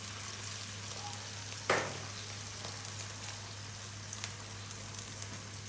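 Onion paste hits a pan of dried fish with a sudden sizzling splash, then settles into a quiet, steady fry under a low constant hum.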